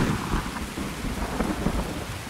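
A thunderstorm in the video game Escape from Tarkov: dense, steady rain rushes with deep rumbling thunder underneath, loud and continuous with no voices.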